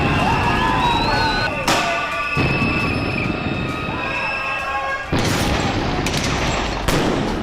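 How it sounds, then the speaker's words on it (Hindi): Police gunfire during a riot where tear gas shells are also fired, with loud, sharp shots cracking out at irregular intervals over a constant roaring din of crowd noise. "पुलिस न सिर्फ आंसू गैस के गोले छोड़ रही है, बल्कि डरा देने वाली फायरिंग कर रही है।"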